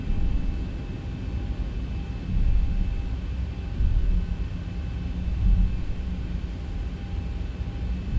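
The simulated engines of a Boeing 737-800 in X-Plane 11 spool up to takeoff power as a steady, deep rumble under a thin constant whine, holding even and unbroken throughout.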